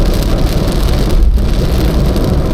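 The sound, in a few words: rain on a moving car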